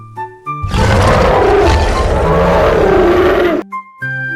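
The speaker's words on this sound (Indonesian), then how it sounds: "Beruang." A bear gives one long, loud, rough roar lasting about three seconds, framed by light background music before and after.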